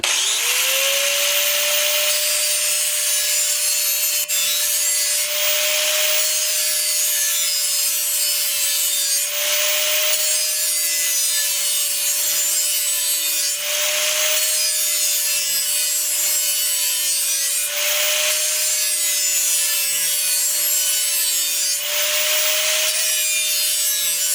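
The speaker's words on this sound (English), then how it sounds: "I keep the grinder moving" An angle grinder whines steadily and loudly as it strips rust from the edge of a garden shovel, the pitch dipping and rising with pressure in periodic rasping sweeps, with no voices.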